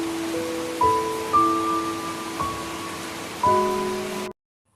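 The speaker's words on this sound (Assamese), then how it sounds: "কেনে বৰষুণ দিছে" Steady rain falls in Assam as a constant broadband hiss, with a few sustained tonal hums rising over it before it cuts off abruptly.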